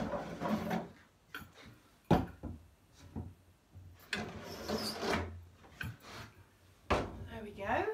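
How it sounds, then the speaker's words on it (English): Wooden drawers are pulled out of a bedside table during a painting makeover, giving a series of close scraping, rubbing and knocking bursts of wood on wood, with a voice heard now and then. "I'm going to take all of the drawers out."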